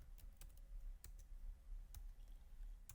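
Scattered keystrokes on a computer keyboard, light crisp clicks arriving in short irregular bursts, close and quiet against a soft background hiss.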